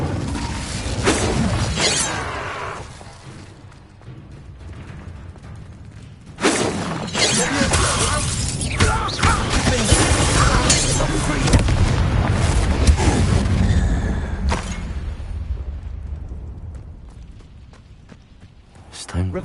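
An Incendio fire spell cast in Hogwarts Legacy sends out a burst of crackling, shattering blasts that sustain as a loud rushing roar amid game combat sounds, trailing off toward the end.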